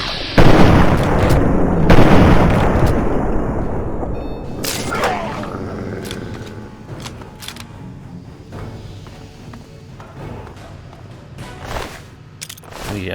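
A frag grenade goes off in Fallout 3 with a loud, deep booming blast, followed by a long rumbling decay and scattered sharp game gunshots, while a person talks over it.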